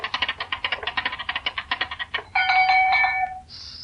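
A crank-turned chime device used as a radio comedy sound effect plays a steady run of bright, evenly spaced ringing strikes, then a sustained chiming tone and a brief high ring at the end, heard alone and up close.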